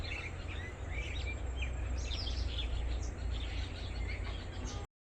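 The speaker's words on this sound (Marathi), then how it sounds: "सगळीकडे आपल्याला पक्ष्यांचा आवाज ऐकू येते." Birds chirp and sing across open farm fields in the evening, with scattered high calls over a steady rustling outdoor background before a sudden cutout near the end.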